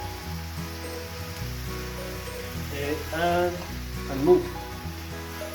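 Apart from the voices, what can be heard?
beef frying in butter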